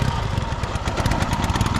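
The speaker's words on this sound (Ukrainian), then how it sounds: "Розблокировка і все, мотоцикль поїхав." A homemade motorcycle-based tricycle built from an MT 10 drives off in a garage setting, its engine running loud and steady with a rough, continuous mid-pitched drone and no talk.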